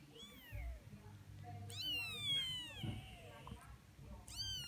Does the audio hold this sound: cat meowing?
yes